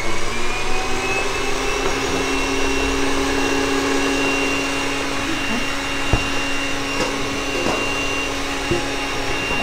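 An electric mixer beats egg yolks with sugar, a steady, loud, continuous motor whir throughout with a few faint knocks from the beaters against the bowl.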